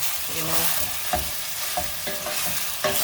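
Beef browns and fries in a pan with a constant loud sizzle, punctuated by several scraping stirs of a utensil at irregular intervals, with no voices.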